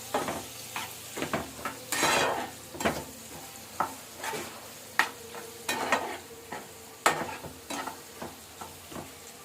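Pork gongura curry in a pan on the stove, with a spoon stirring and scraping repeatedly over a steady low sizzle and clinks of metal cookware.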